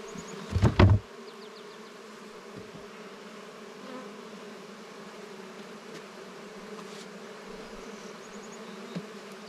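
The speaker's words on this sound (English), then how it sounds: "there is a healthy buzz in this one, so they are motivated, or just upset" Honeybees drone loudly and continuously from an opened hive during an inspection, a close, steady buzz that holds throughout, with a brief knock near the start and no voices.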